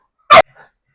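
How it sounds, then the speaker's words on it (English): A single sharp dog bark rings out close and loud, followed by a fainter, softer yip or whimper a moment later, with no talking over it. "I'm sure y'all can hear the dogs in the background."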